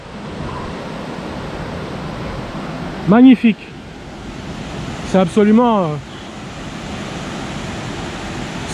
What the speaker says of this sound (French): on se dirige vers la grande cascade